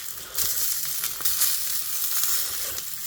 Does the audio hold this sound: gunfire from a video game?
no